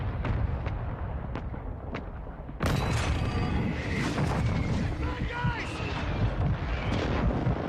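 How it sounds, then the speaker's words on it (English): A mortar strike in Warzone 2 starts with a few sharp distant thuds, then a sudden loud rumbling blast lands and rolls on with crackling debris. Voices talk over part of it. "Mortar support incoming!"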